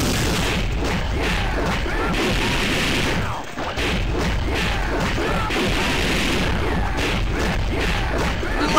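Explosions from bombs going off in the video game Combat Tournament, a dense, continuous barrage of booms and crashes with a brief dip near the middle, loud and close throughout.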